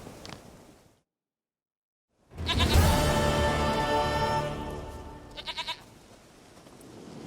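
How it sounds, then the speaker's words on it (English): A goat in the video game The Witcher 3 bleats in one long, loud, wavering cry after a brief silence, followed by a shorter trembling bleat. "Goat of mine, dearest, sweetest goat."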